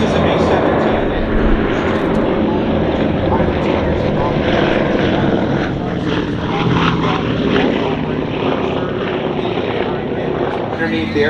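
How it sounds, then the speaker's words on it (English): Boeing B-17 bomber "Texas Raiders" at an air show, its propeller engines droning loud and steady for the whole stretch, with people talking under the roar. "So this is a B-17."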